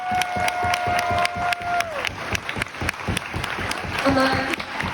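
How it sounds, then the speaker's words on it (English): At a high school track and field team banquet, an audience applauds in a burst of close, lively clapping with a few cheers. Voices and talk run underneath, and a sustained tone is audible early on. "so can we give a round of applause to Mrs."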